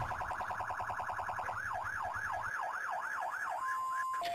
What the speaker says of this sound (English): what is with the sirens?